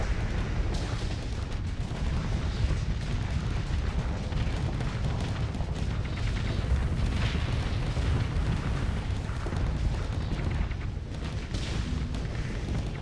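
Rockets explode during space combat in the Starsector video game, a steady barrage of booms and bursts layered over a constant rumble. The blasts are moderately loud and run throughout with no talking.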